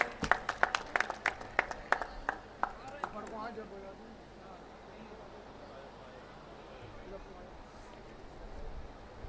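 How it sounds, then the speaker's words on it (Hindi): Clapping from an audience welcoming a graduation convocation procession at Mohammad Ali Jauhar University in Rampur, sharp separate claps at first that thin out after about three seconds into a murmuring hall. "एक बार और ज़ोरदार तालियां बजाकर इस प्रोसेशन का इस्तकबाल कीजिए।"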